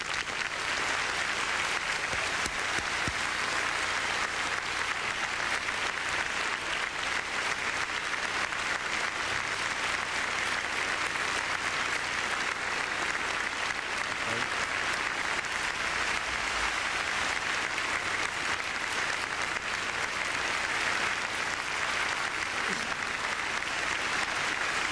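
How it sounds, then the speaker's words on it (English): Sustained, dense applause from a large audience welcoming the candidates at a 2000 US presidential debate, steady and loud throughout with no pauses. "except for right now, when they will applaud as we welcome the two candidates, Governor Bush and Vice President Gore"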